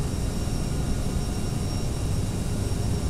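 Airliner engines in the Prepar3d flight simulator, an American Eagle flight climbing out of Charlotte, give a steady broadband jet roar with a deep low rumble, even and unbroken throughout at moderate level, with no voices.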